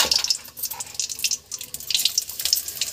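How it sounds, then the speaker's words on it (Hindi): A bay leaf dropped into hot oil in a kadai while making palak paneer sizzles with a busy, crackling hiss that pulses up and down close by, with no voices over it. "इधर कढ़ाई भी गर्म हो गया है, तेल भी गर्म हो गया है। इसमें मैं तेजपात डाल रही हूँ"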